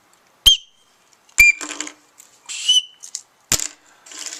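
Emergency signal whistles for hikers, some with built-in compasses, blown in several short, shrill, piercing blasts one after another, loud and close with no talking.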